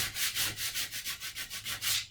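Sandpaper rubbed back and forth over a painted wooden storage chest to distress the finish, a steady rhythm of about ten quick raspy strokes, close and alone.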